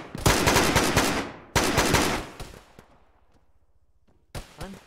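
Automatic gunfire in the military video game Arma, with two long loud bursts of rapid shots, then a few scattered single shots fading off and one more short burst at the end.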